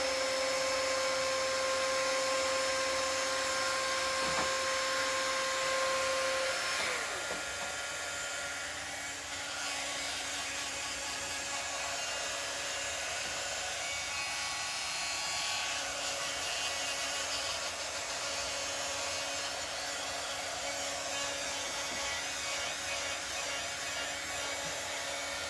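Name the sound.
hair dryer drying gel stain on craft piece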